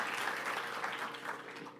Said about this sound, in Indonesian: beri tepuk tangan sekaligus kalau memang mau beri tepuk tangan